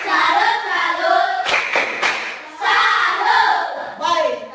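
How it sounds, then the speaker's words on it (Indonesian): A class of students does the rhythmic tepuk salut clapping pattern in a lesson, bursts of group claps interleaved with chanted voices, loud and close, with a brief pause between sections. "Tepuk salut untuk kita semua."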